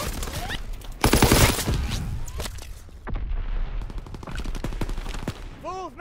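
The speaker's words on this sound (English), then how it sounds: "Aircraft ready for strafing run." Aircraft strafing run in the Call of Duty WWII video game: bursts of heavy machine-gun fire and booming impacts, loudest in a dense volley early on, followed by scattered rapid shots and cracks continuing through the clip.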